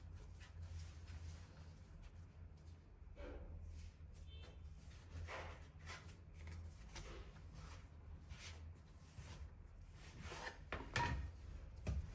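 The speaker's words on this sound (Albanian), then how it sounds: "Secilës pjesë mundohem që t'ja jap formën e një kulaçe, duke rrëkullisur në midë." Small portions of Istanbul-style gevrek dough are rolled into rounds on a table, giving faint, repeated soft rubbing and light thuds over a steady low room hum.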